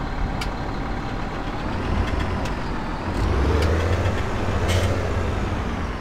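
A John Deere 7200 tractor engine runs in Farming Simulator 2017, a continuous low rumble that swells louder partway through and stays prominent, with faint higher clicks over it.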